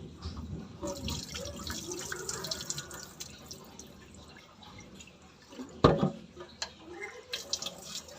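Water runs into a pot of rice from a tap, a soft close trickling and splashing with a sudden louder splash partway through and faint drips afterward.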